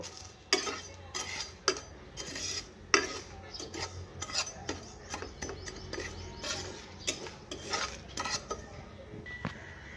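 Salt frying with cumin and black peppercorns in a pan over low heat, a metal spoon scraping and clinking against the pan in irregular strokes, close and fairly quiet, with a faint sizzle underneath.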